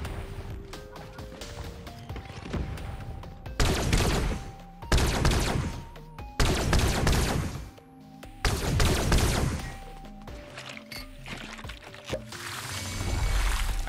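Laser rifle gunfire in Fortnite, with repeated loud bursts of rapid electronic shots in several volleys, mixed with game music and effects.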